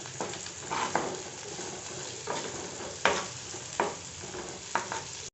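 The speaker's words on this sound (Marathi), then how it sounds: "हा कांदा मी अशा पद्धतीनं परतून घेतलाय, अर्धा कच्चाच तो ठेवलाय" Chopped onion being sautéed in a pan, a steady sizzle broken by several sharp scraping stirs of a spatula at uneven intervals, close and fairly loud, with no talking.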